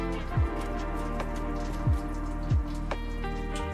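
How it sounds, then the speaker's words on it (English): Rain patters steadily on a toilet's roof overhead, with a few louder thuds and drips standing out at irregular moments. "it's like raining on the roof of the toilet"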